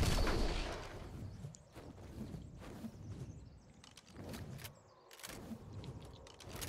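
Gunfire in the ARK Extinction survival game: a string of irregular sharp shots and thuds spread over several seconds, fairly quiet overall with a rumbling background between bursts and no talking.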